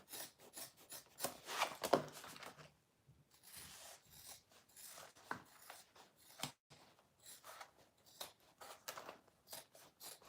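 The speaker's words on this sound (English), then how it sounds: "I'm just gonna trim this seam allowance down here." Scissors snip and rub through fabric while a seam allowance is trimmed on a wristlet bag, quiet close cuts coming in irregular bursts with pauses, no voices.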